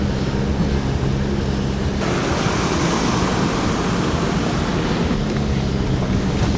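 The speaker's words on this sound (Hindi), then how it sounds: "ये देखो वाटरफॉल ही वाटरफॉल" A waterfall on a mountain pass, heard as a continuous loud roar of rushing water mixed with wind buffeting the microphone, steady without a break.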